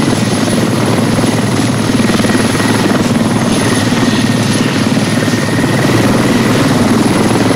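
Helicopter in the military shooter game Squad, a steady loud rotor drone with engine buzz running continuously throughout.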